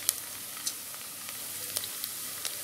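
Green chilies dropped into browned onions in a pan give a steady, close sizzle with a few sharp crackles and pops spread through the frying.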